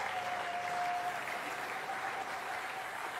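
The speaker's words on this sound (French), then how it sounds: "Est-ce qu'on peut acclamer le Seigneur Jésus-Christ?" A church congregation applauds steadily at a French-language worship service, a dense, continuous wash of clapping from a full room that holds at an even level throughout.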